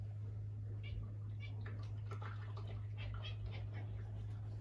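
A cat chirps at a moth in a quiet room, a few faint, short chirps scattered over a steady low hum, with no one speaking.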